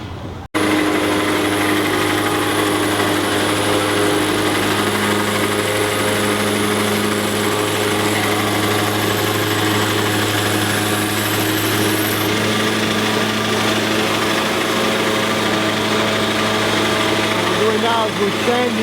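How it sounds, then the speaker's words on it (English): A power sander works along the side of a boat hull during a Nautica 15 wide-body restoration, giving a loud, continuous motor whine and grinding rumble that holds steady for the whole stretch, close by. "We're sanding the side."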